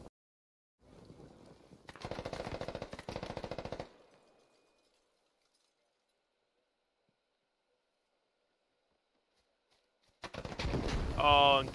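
Gunfire in a video game battle: a long burst of rapid automatic shots, then several seconds of near silence, then another loud, dense burst of firing.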